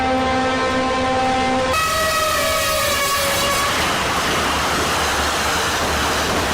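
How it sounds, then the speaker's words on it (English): A fast-approaching train at a track crossing sounds a loud, sustained horn blast that shifts pitch partway through, then dissolves into a broad roar of rushing noise as it passes close by. "fast approaching train nearly hit a man crossing the tracks"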